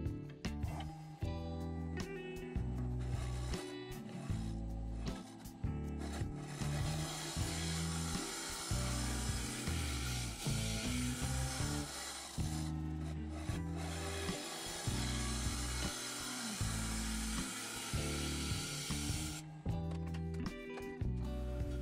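A dry maple lidded vessel being scraped on a wood lathe: a steady, loud rasping tool-on-wood scrape running almost continuously, with brief pauses and changes in pressure, close up and with no voices.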